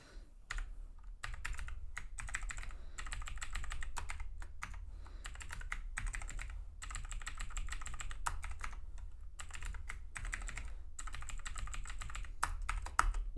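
Someone types a new password on a computer keyboard at close range: fast runs of crisp key clicks with short pauses between them, steady over a low background hum and with no talking.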